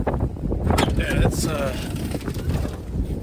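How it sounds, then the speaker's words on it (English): Strong wind buffets the microphone outdoors at the bottom of a hill on a mountain road building site near a Kubota machine, a steady rumbling gust throughout, with a person speaking briefly over it. "very windy."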